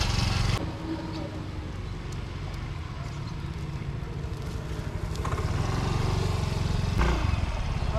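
A motorcycle carries passengers along a rural path toward a junk shop, its engine a steady, rough drone that runs unbroken through the whole stretch and swells slightly toward the end.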